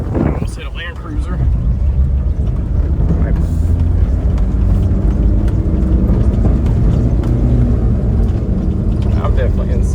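Engine of a 1991 VW Doka Syncro 4x4 three-door truck pulling in second gear, a steady loud rumble with wind buffeting throughout, a voice briefly speaking near the start.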